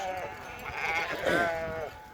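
A flock of sheep bleats while migrating to the Şiran highland pastures, with overlapping wavering calls from several animals nearby, rising and falling over a faint outdoor background.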